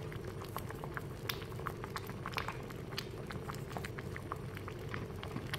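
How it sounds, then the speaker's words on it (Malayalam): A thick green gram payasam bubbles steadily in a pot, small pops and blips breaking through a low, continuous simmer. "പായസം ഇതാ നല്ലപോലെ തിളച്ചിട്ടുണ്ട്, ഒന്ന് കുറുകി വന്നിട്ടുണ്ട്."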